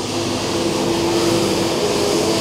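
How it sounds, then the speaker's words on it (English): A street cleaner machine runs nearby with a steady, loud mechanical roar and whine, droning continuously without a break on a Sunday morning in Bradford. "And that's the sound of the cleaner behind me."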